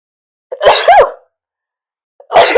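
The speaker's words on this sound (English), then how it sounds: "Goodness, 3 sneezes." Two sharp, close sneezes in quick succession, then a brief silence before a third bursts out; loud and abrupt from a single person, with no speech.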